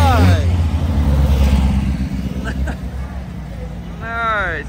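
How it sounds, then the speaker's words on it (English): A passing turbocharged car on a street in downtown Waikiki gives two rising whooshing spool-up whistles, one at the start and one near the end, over a loud engine rumble and traffic, with people talking nearby. "Nice, he got a turbo."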